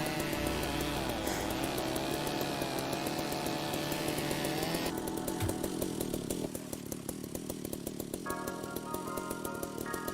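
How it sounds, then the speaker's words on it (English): A cutting tool in the Ship Graveyard Simulator video game, buzzing steadily like a chainsaw, loud and continuous throughout with a shifting tone partway through, with no talking. "It sounds like a bloody chainsaw."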